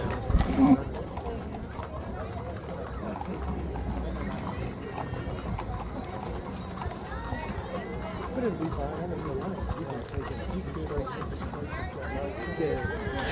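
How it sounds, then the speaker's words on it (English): Horses walking along the street in a Christmas parade, a steady clip-clop of hooves on pavement under a constant crowd murmur and nearby chatter, moderately loud and continuous. "I love watching those horses. They're so beautiful, and how they work together, walk together."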